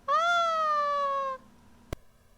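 A cat on a website gives one long, clear, drawn-out meow lasting over a second, followed by a brief click in an otherwise quiet background.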